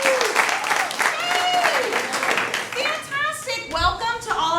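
A crowd at an improv comedy class show claps and cheers in a steady, dense burst, with shouts and whoops rising over the applause throughout.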